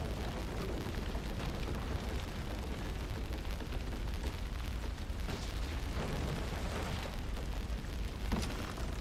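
Explosion in the video game Assassin's Creed Unity, a dense, loud roaring blast with crackling debris that fills the whole stretch, with a few sharper bursts near the end and no talk.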